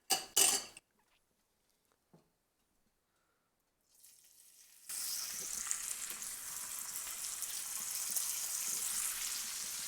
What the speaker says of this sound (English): That sizzle is fantastic. It's everything you've ever wanted in a bacon sizzle.